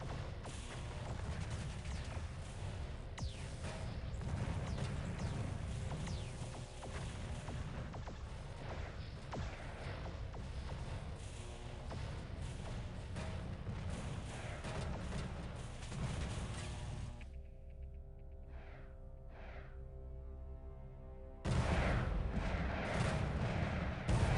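Meteor strikes land in a real-time strategy battle in Earth 2150 as a dense rumble of booming impacts and weapon fire, loud and continuous, then a short quieter gap before another heavy burst.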